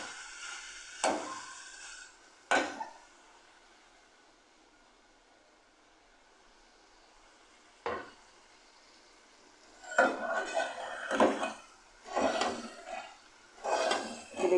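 Mutton and taro (arvi) being fried with masala in a pot: intermittent scraping and clanking of a spoon against metal over a low steady sizzle, close, with quiet gaps between stirs.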